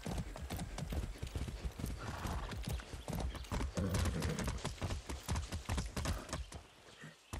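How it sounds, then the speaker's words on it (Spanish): Horse hooves clip-clop rapidly at a gallop in Far Cry 6, with a neigh or whinny breaking through partway, the rhythmic beats fairly close and continuous throughout. "Qué buen caballo."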